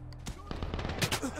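A heavy gun fires in the military shooter Medal of Honor (2010) in a brief burst of sharp, rapid shots, with a voice speaking over the clattering fire.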